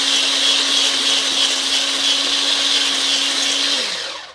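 Electric mixer beating oil and milk into a batter, a loud steady whir with a constant motor hum that runs for about four seconds, then winds down as it switches off.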